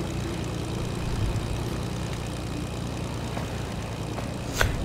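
A propeller airplane flies in the video game Fortnite, a steady droning engine hum holding throughout with no talking.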